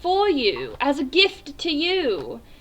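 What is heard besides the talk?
No everyday noises stand out.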